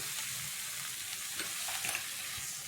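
Grated coconut and jaggery being stirred in a pan for beetroot barfi, a steady soft sizzle with faint scraping strokes of the spoon, quiet and close, no voices.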